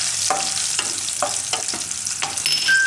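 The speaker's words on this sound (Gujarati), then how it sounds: "થોડીક વાર તેલમાં કાજુને આ રીતના થવા દેવાના" Cashews frying in hot oil for green-chickpea pulao give a steady bright sizzle, broken by a few soft spoon strokes through the pan, close and fairly loud, with nobody talking.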